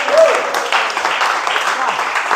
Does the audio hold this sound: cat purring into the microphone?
no